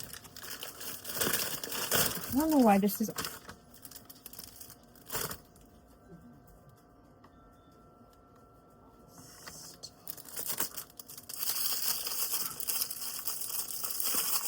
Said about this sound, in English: Oh my god, I hate these shrink wrap things.